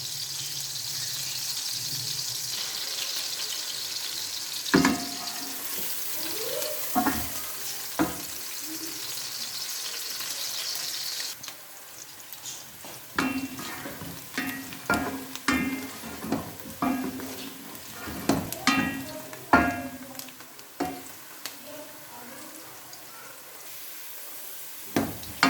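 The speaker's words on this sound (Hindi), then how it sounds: "प्याज को हल्का ब्राउन होने तक हम फ्राई करेंगे।" Onions frying in a pan until light brown, a steady sizzle running through the first half, then broken by intermittent scraping and stirring clatter, with no one talking.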